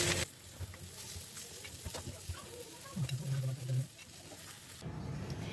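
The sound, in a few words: fish being fried and lifted out of hot oil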